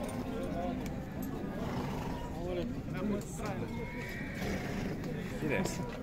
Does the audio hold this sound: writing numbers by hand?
no